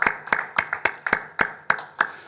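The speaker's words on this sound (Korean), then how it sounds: "치료하신 아버지 하나님께 감사와 영광의 박수를 올려드립니다" Congregation clapping together during a Korean Wednesday church worship service, a steady rhythmic beat of about eight to nine sharp, evenly spaced claps at moderate volume with little else around.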